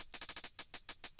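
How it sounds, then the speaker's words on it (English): Hi-hat sample processed with a different bit-crushing setting plays a fast, slightly uneven run of bright, fizzy ticks, soft and alone. "I used the same hi-hat sound, but a different kind of bit crushing."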